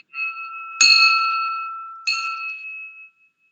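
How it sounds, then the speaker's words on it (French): A small metal bell of the kind rung in Nepalese temples is struck twice, each strike bright and ringing close by, the clear tone lingering and slowly fading after each hit in an otherwise silent room. "la vraie cloche que je mets à l'entrée de ma maison"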